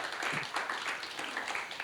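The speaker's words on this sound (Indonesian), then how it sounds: "Beri tepuk tangan kemuliaan buat Tuhan" A church congregation at a midweek fellowship service applauds for God, a dense, continuous patter of many hands clapping at moderate distance with no speech over it.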